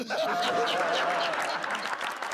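A studio audience at a comedy show claps in a burst of applause lasting a couple of seconds, dense and fairly close, with faint voices mixed in.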